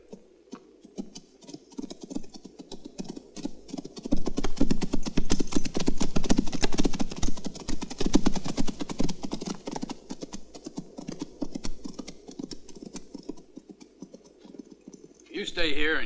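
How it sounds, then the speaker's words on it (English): Horses' hooves clip-clop steadily and fast across open ground in a Western setting, building louder in the middle and holding a rapid, even patter before easing off. "The horses ran off toward the hills."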